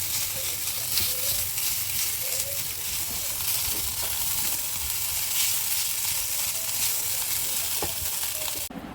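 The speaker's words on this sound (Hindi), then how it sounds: "अब इसमें 2-3 कतरे ऑयल के डाल के इसको ज़रा सा भून लेते हैं" Keema paste frying in a few drops of oil makes a continuous close sizzle with a soft hiss and occasional stirring scrapes, steady throughout and cut off abruptly at the end.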